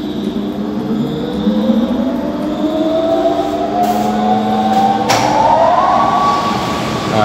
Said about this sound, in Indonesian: Nah, ini kondisi sudah menyala. Mari kita cek ampere dari blower tersebut.